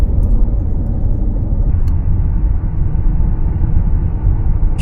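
Cabin rumble of a car cruising at 80 km/h on a quiet highway during a road trip in Gujarat, a steady, loud low drone of road and engine noise with no talk.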